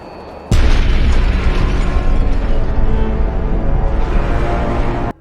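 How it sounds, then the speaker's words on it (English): Explosive charges blowing up artillery guns in Fallout 3's Operation: Anchorage: a sudden loud blast erupting after a quiet start, then a sustained rumbling roar of explosions and debris that swells again near the end before cutting off. "Setting explosive charges on them, we can dispatch them one by one"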